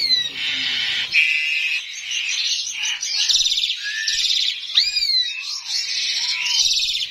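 Hong Kong mynas call in a crowded aviary, a busy mix of loud, close whistles, rising and falling squeals and chattering notes that overlap continuously.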